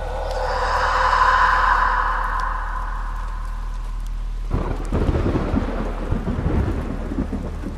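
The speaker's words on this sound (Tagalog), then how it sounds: "nagbabadya ang langit ng mabigat na ulan" Storm sound effect: a long rolling rumble of thunder swells and fades, then a dense hiss of heavy rain takes over and continues steadily.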